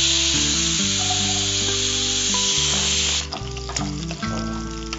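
Small shallots sizzle in well-heated oil for a spicy chicken chinthamani, a steady close hiss with background music playing over it for the whole stretch.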